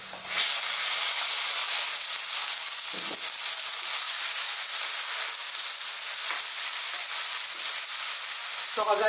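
Chopped tomatoes hit hot oil and sautéing garlic in a pan for Filipino chicken heart adobo, giving a loud, steady, hissing sizzle that lasts throughout, with a few faint clinks of stirring.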